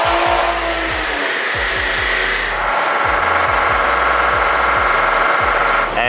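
Stock Toyota A90 Supra with a factory exhaust, heard loud and close as its engine revs and drops in repeated pulls, a steady droning roar rising in pitch with each acceleration, no talking.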